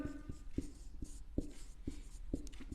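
Chalk taps and scratches on a classroom board as a maths teacher writes, a series of quick, close strokes about every half second in a quiet room, with no talk over them.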